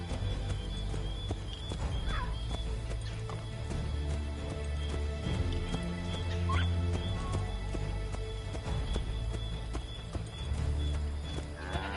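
A horse gallops in Assassin's Creed 3, its steady clip-clop hoofbeats running throughout alongside a brief whinny, set over a continuous low rumble of game ambience.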